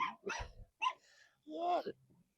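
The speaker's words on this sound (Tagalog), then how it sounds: "Ayan na yung mga aso." Several dogs bark and yelp in short separate bursts outdoors in Atok, Benguet, close and fairly clear. A voice may be heard briefly among them.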